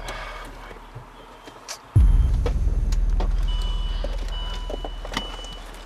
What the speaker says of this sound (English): Your mom just parked her car.